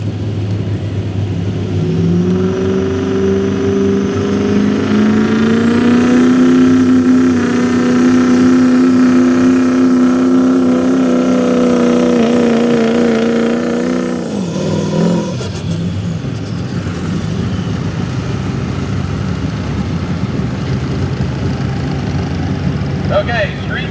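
A diesel street 4x4 truck hauls a pulling sled, its loud engine roar climbing steadily in pitch for several seconds before cutting off abruptly, with an announcer talking over the noise.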